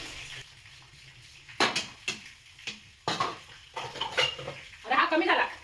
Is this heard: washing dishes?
yes